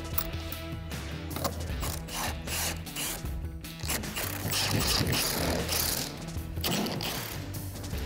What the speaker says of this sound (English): So I'm gonna use a 3/4-inch socket on my impact gun